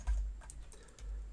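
A few faint, scattered clicks of typing on a computer keyboard, quiet and close, with short gaps between keystrokes.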